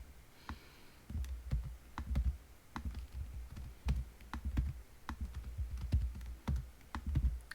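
Computer keyboard keys clicking in short irregular bursts while cutting and pasting spreadsheet data, quiet and close, with pauses between the presses.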